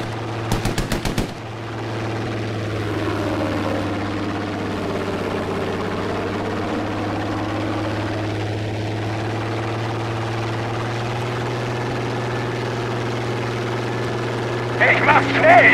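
Aircraft engine drones steadily in a Battlefield 5 plane, a short burst of machine-gun fire rattling near the start and more clatter at the end, with voices talking over the game.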